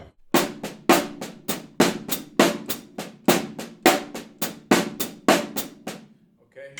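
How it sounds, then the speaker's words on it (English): Hand-to-hand groove on a drum set phrased in five, with steady accented hits snapping across the kit in a repeating cycle, close and loud, ending on a softer stroke. "if you explore that simply on the drum set, it just can sound like this"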